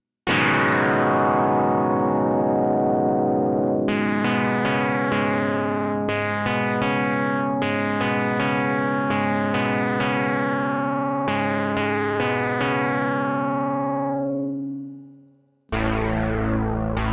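A buzzy synthesizer square wave with pulse-width modulation and a fast LFO plays a series of sustained notes with a rapid wobbling modulation, loud and continuous, briefly cutting out before resuming.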